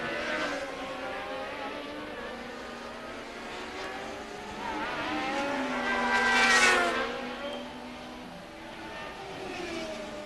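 Formula 1 cars from 1981, with Villeneuve and Laffite racing wheel to wheel, howl with high engine notes that rise and fall through gear changes, building to a loud passing peak before fading.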